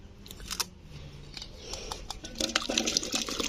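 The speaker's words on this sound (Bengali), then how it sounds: "আমগুলোকে এই জলের মধ্যে দিয়ে দেব" Mango pieces drop into a pot of salted water with soft splashes and a few light clinks, quiet and close, growing busier toward the end.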